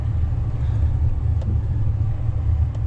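A four-wheel-drive vehicle in four-wheel drive high creeps along an icy rural winter road in Cloudcroft, New Mexico, giving a steady close engine rumble and low road noise that holds evenly throughout with no talking.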